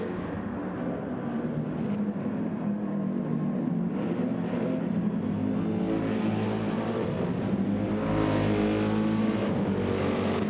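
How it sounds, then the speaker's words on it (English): Three Porsche GT race cars in a racing video game scream down the Monza straight, engines held at high revs in a loud, continuous drone that climbs in pitch and swells louder toward the end. "down that straight, it is these three cars that are battling it out, all three Porsche manufacturers"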